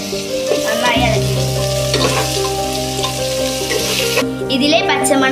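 Sliced onion with ginger, green chili and garlic fries in a pan while being stirred, a loud, steady close sizzle broken by scraping stir strokes, with no talking.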